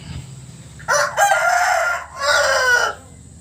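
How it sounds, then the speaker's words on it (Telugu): A 14-month-old Nemali Pingala rooster of the Bhimavaram breed, weighing about 2.5 kg, crows loud and close in one drawn-out call with a brief break partway through, against a quiet background. "వీడియోలో కనిపిస్తుంది నెమలిపింగళ పుంజు"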